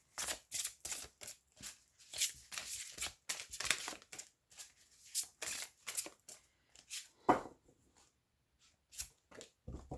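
Tarot cards being shuffled and drawn by hand, a series of quick soft riffles and flicks in uneven bursts with brief pauses, close and fairly quiet, no talk.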